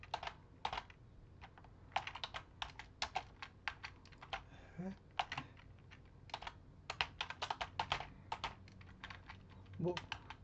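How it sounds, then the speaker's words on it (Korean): Computer keyboard keys being pressed, spacebar among them, in steady bursts of crisp clicks throughout, fairly close and moderately loud with no talking. "스페이스바 누르고 이런 식으로 진행을"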